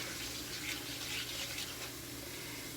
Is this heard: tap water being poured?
yes